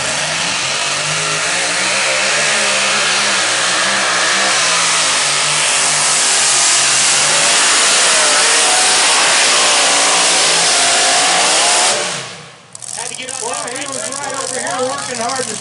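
Pro stock diesel pulling tractor at the NTPA Power Pull Nationals works under heavy load, a loud, sustained, straining engine roar with shifting pitch, ending in a sudden drop and a lighter, rattling rev as it comes off the pull.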